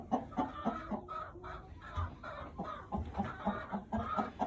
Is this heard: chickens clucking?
yes